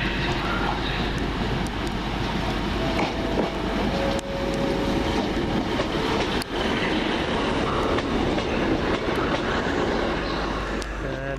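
Train pulling into Wolverhampton station, an empty stock working from Birmingham New Street heading for the carriage sidings: a steady, loud rumble of wheels and engine fills the platform throughout, with a brief tone and faint voices in the background.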